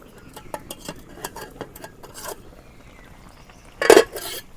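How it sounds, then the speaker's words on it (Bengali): A metal lid clanks onto a pot of simmering fish curry made with pangas fish and ridge gourd, following a series of light utensil clinks; one sharp, loud metallic clatter stands out near the end. "পানি দিলাম, এখন ঢাকা দিই।"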